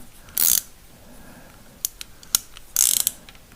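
A torque wrench tightening a bolt on a VW 2-litre air-cooled engine during a top-end rebuild; two short bursts of close ratchet clicking separated by a few sharp single clicks and quieter handling sounds.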